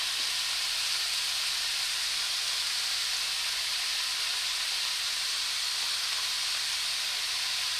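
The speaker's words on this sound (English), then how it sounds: "Get some nice vegetables in there. Beautiful. Saute them up." Vegetables sauté in a hot pan for Korean yaki mandu, giving a steady, loud, broadband sizzle and hiss that carries on without a break and without talk.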